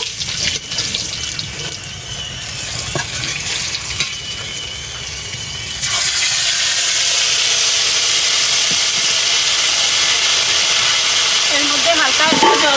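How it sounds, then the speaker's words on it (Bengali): A bay leaf and a dried chili dropped into hot oil in a home kitchen, a sudden loud, steady sizzling hiss that begins midway and holds strong to the end, following quieter clinks and rustles as a voice talks. "এবার তেলটা গরম হয়ে গেছে আমি ফোড়নে দিচ্ছি একটা তেজপাতা একটা শুকনো লঙ্কা"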